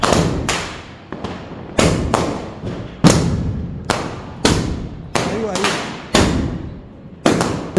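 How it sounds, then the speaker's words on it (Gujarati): Firecrackers burst outdoors during Diwali celebrations, a series of about a dozen sharp, loud bangs at irregular intervals, each with a decaying rumble and echo, close to the listener. "ગાઈસ અહીંયા મસ્ત ફટાકડો ફોડે છે"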